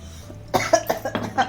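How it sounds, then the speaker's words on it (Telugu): A short burst of about five coughs from a person standing near a home kitchen where oil is heating, close and fairly loud, with no speech around them. "దగ్గు వస్తుంది"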